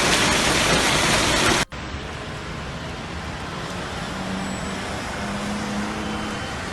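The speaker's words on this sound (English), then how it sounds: "so that's a hailstorm, which is plague number 6" Hailstorm with heavy rain pounding steadily, a dense loud broadband roar that cuts out abruptly for a moment, then resumes as a softer continuous downpour with faint low traffic-like rumble.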